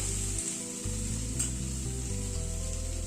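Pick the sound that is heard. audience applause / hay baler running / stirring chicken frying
stirring chicken frying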